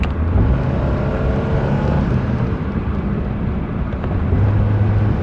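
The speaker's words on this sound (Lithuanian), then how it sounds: "nuspausit iki dugno ir klausykit, kaip greitai perjungs žemiausią bėgį" A loud, steady engine drone from a BMW E30 with road and wind roar, heard from inside the car as the pedal is floored and the automatic gearbox kicks down to a lower gear and pulls hard.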